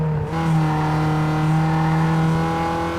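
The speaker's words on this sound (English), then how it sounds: "the little Peugeot is running well." A small Peugeot's engine in Need for Speed Underground 2 holds a steady, loud drone at fairly constant revs after a brief rise at the start, with no voices.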